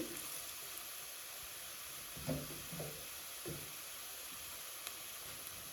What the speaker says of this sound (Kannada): ಇದಕ್ಕೆ ಸ್ವಲ್ಪ ಜೀರಿಗೆನ ಹಾಕೊತಾ ಇದ್ದೀನಿ